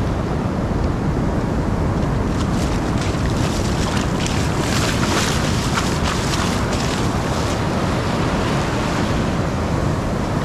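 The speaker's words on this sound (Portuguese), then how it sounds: "Vem a onda de novo, ó." Surf breaking over shallow water at Praia das Toninhas beach in Ubatuba, a steady loud wash of waves with wind buffeting the microphone throughout.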